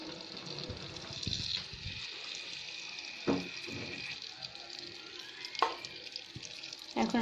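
Regular cooking oil sizzling and crackling in a kadai on a stove, a steady hiss with a few louder bursts, no voices.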